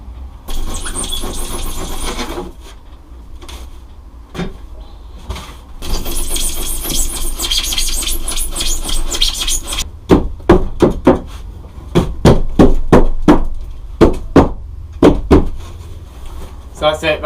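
Power saw cutting insulation board, shaving thin strips at a time, with a steady buzzing cut in two long passes followed by a series of short, sharp bursts.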